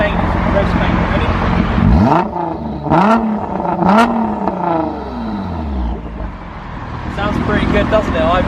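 A Nissan GT-R R35 with its Armytrix valved exhaust open, revved in three or four sharp rising blips that fall off into a loud, raspy idle, close up, with talking in between.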